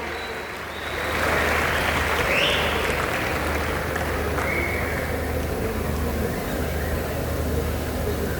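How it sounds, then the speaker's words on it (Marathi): A large audience applauds at a Marathi theatre performance during a literary convention, a dense, sustained wash of clapping that swells after the first second and carries on loudly to the end. "मला वाटत नाही टाळ्या थांबल्या पाहिजेत."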